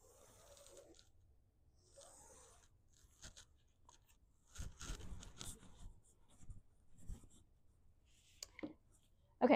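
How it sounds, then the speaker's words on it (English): A pen or marker draws a line diagonally across a fabric square from corner to corner while making bias binding, giving faint scratchy strokes with soft handling noises and a louder bump at the end. "you're going to draw a line from one corner to the other"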